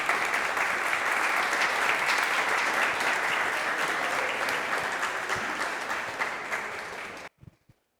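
Sustained, dense audience applause at a samba and city talk, loud and even for about seven seconds, then cutting off abruptly into near silence with a couple of faint knocks.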